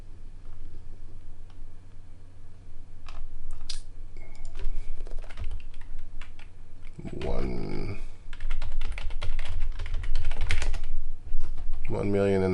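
Typing on a computer keyboard, a steady run of light clicks and keystrokes spread through the clip, mixed with louder bursts and other handling noise, with a low background hum underneath.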